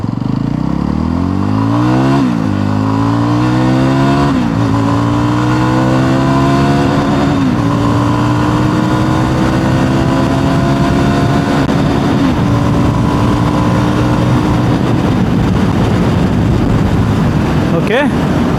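A Yezdi Roadster motorcycle pulls away in first gear, its engine climbing through repeated rising revs as it rides, loud and steady for the whole stretch, with wind noise and a possible voice faintly underneath.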